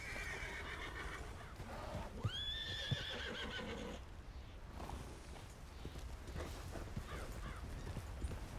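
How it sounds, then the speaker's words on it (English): An angry horse lets out a sharp rising whinny around the middle, set against faint hoof clops and outdoor background noise, fairly distant and quiet overall. "Heard a very angry horse."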